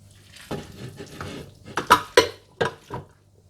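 Minced meat is dropped and scraped into a food chopper, giving a series of soft, close clacks and knocks of a spoon against the bowl, irregular and fairly faint.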